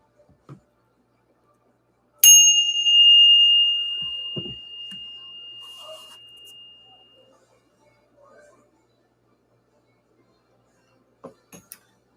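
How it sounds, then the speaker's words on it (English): A single bell is struck once to clear energy in a spiritual reading session, ringing out loud and clear with a long, bright decaying tone that fades over several seconds into near silence. "We're about to ring the bell."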